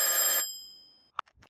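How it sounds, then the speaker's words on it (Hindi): A telephone bell rings loudly in one short metallic burst that fades into a lingering decay and then stops. A few faint clicks follow. "चाचा चौधरी के घर पर टेलीफोन बजता है।"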